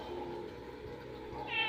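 Two kittens meowing softly indoors, a short mewing cry with light rustling beneath it and a slightly louder, higher call near the end.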